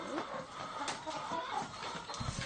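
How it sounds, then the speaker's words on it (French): Battery-farmed hens cluck and squawk continuously, a dense overlapping chorus of many birds crowded close together. "Le quotidien de ces poules élevées en batterie est un vrai cauchemar."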